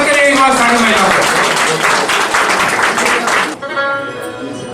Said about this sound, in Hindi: तालियों से स्वागत करें एक बार सारी महिलाओं का।